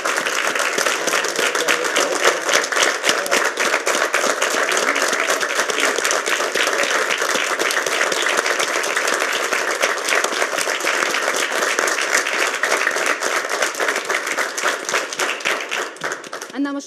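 A hall audience claps loudly and continuously in a dense, even roar of hands for about seventeen seconds, with crowd noise and voices mixed in beneath it.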